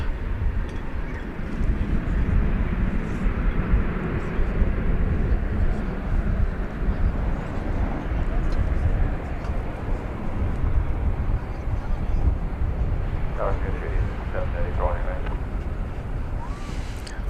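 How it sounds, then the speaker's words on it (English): An Airbus A321 jet landing at DFW Airport gives off a steady, moderately distant roar, broad and unbroken from start to end, with brief faint chirps near the finish. "A321 coming in from Mazatlan, Mexico."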